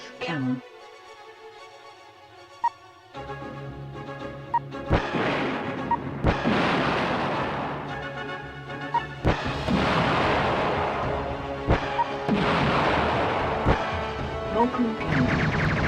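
Pulse cannon shots in a mech combat game that switches between walker and jet modes, heard as sharp repeated blasts and booms over a dense wash of in-game noise and explosions, loud and close, with someone narrating between shots.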